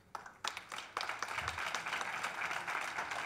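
A conference audience applauds a speaker about to present on recommendation systems; dense, steady clapping from a crowd fills the hall after a few scattered opening claps, with no talk over it.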